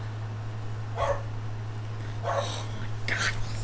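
A dog barks in a few short bursts spaced about a second apart, fairly near, over a steady low electrical hum, with a voice also present.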